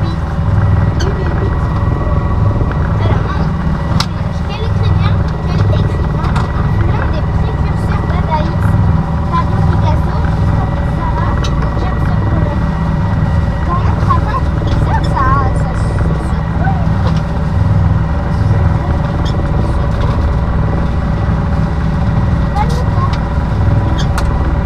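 A sailboat's engine drones steadily as the boat motors out of Leucate port in light wind of about two knots, a continuous low rumble with water and wind noise while people talk over it.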